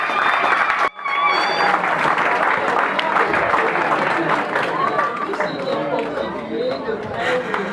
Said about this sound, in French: permettez de vous inviter à vous lever pour applaudir